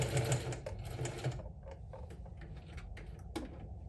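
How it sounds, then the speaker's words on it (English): A sewing machine stitches a seam on a quilted crossbody handbag made from a scarf bandanna, a loud, dense mechanical run at the start that drops to a softer, steady whir for the rest. "you're gonna sew down to the other corner"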